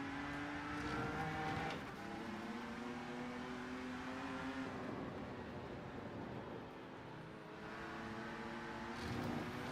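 A racing car engine in the Rennsport driving game hums as a quiet, steady drone. Its pitch shifts gently as the car brakes and accelerates through corners.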